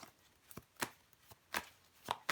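A tarot card laid down on a table to cover another card, one of several soft, distinct taps and slides, close and quiet, with no talking.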